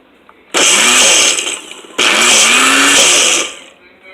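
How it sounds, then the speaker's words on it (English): A blender blending nut pasta sauce whirs loudly in two bursts, a short run followed by a longer one, close up with a brief pause between. "Let's just blend it up a little bit more."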